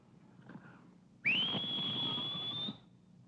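A man whistles a single sustained rising note for about one and a half seconds, clear and close, in a quiet room from a 1944 American mystery film, with no talk over it.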